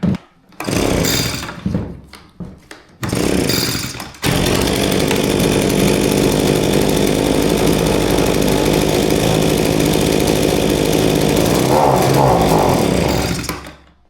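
A generic Chinese-made AMA chainsaw with a badly fouled spark plug fires in short revving bursts, then runs loudly and continuously close by, its engine note bogging down and wavering slightly toward the end.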